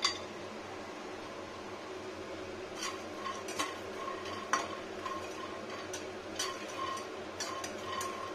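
Peanuts are stirred in a pan while frying, soft scraping and scattered clinks of a spatula against metal over a quiet background.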